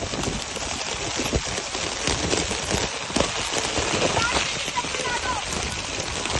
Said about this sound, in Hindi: कहाँ तेज बारिश हो रही है।